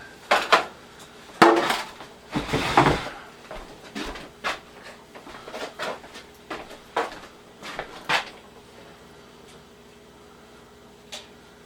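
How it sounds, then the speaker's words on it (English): Rubber spatula scraping microwave fudge from a bowl into a pan, heard as a series of close clinks and scrapes of dishes and utensils, with a few louder knocks early and quieter taps later, no talking. "the only other utensil that's very handy is a rubber spatula, which I'll get to transfer into this pan."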